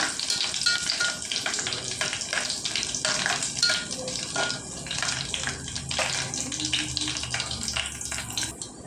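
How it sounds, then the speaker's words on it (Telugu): Dried red chillies fry in hot oil for a tempering with garlic, a busy crackling sizzle with stirring scrapes and small pops, steady and close, with no talking. "ఎండుమిరపకాయలండి, కొద్దిగా వేగాలండి ఎండుమిరపకాయలు"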